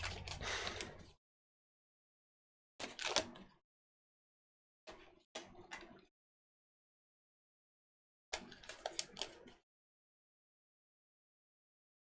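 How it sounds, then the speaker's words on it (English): Tarot cards are shuffled in several brief bursts of riffling and papery flutter, close and fairly loud, separated by silent pauses. "Shuffling a little bit for the next person"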